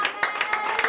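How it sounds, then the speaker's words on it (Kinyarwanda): A worship gathering claps for God in quick, even beats, several sharp claps in under a second with a faint background murmur. "mukomere Imana amashyi"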